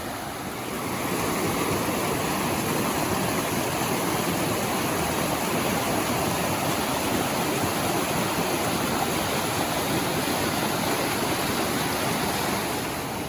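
A mountain creek rushes beside a snowy trail in spring, a steady, loud, broadband roar of flowing water that holds constant throughout with no voices.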